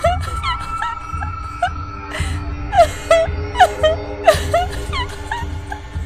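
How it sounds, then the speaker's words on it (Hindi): A woman's wailing, moaning cry rises and falls across several sobbing bursts, with faint anklet bells jingling beneath it in an eerie horror scene; the sounds are fairly close and carry on steadily without speech. "अचानक रोने की आवाज और नुपुर की ध्वनि सुनाई दी।"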